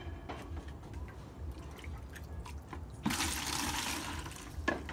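Water is poured into a container for breeding betta fish, a soft trickle and drip at first that swells into a louder, steady splashing pour partway through, close by with no talk.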